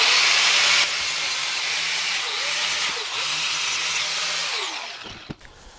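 A power tool grinding a repaired metal sway bar bracket down to bare metal before welding, a loud continuous whine that holds steady, dips briefly, then spins down and stops near the end.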